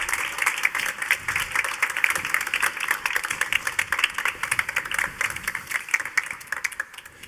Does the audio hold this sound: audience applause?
yes